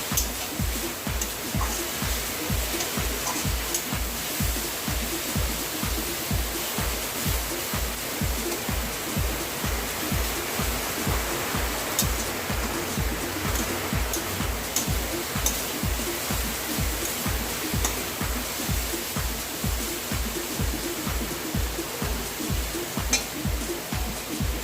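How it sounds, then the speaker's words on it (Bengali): Drumstick leaves (sajna shak) fry in oil in a pan, a steady close hiss and sizzle running throughout with a soft regular thumping underneath. "তেল দিয়ে এবার সজনা শাকটা ভালো করে ভেজে নিচ্ছি।"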